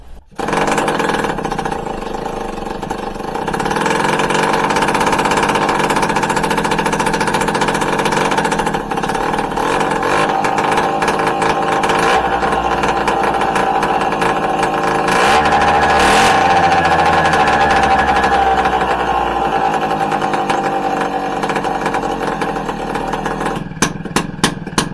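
A small 1970s moped two-stroke engine runs steadily and loud at close range after a cold start with the choke on, a buzzy rattling idle that rises and wavers slightly in pitch throughout.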